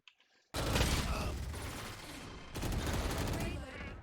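Vandal rifle fire during a Valorant fight, with a short faint lead-in and then a sudden dense burst of rapid gunshots and mechanical clatter, a brief dip, and a second loud volley.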